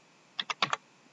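Fingers type code on a computer keyboard: four quick, crisp keystrokes in a short burst, close and fairly quiet in an otherwise silent room.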